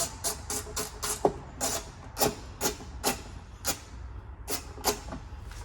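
T30 Torx screws being driven back into the door of a 1990s Chevrolet Suburban, heard as a close series of sharp, regular ratcheting clicks and scrapes, with no talking.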